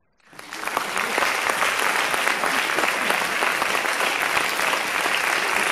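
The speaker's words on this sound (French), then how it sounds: "Vous pouvez vous applaudir" After a brief silence, an audience at a synopsis pitch competition bursts into loud, sustained applause, many hands clapping densely and evenly for several seconds.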